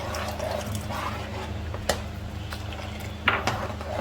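A spoon stirring a falooda mixture in a pot, with a steady low bubbling or simmer, scattered light clinks of metal on metal, and a couple of sharper taps.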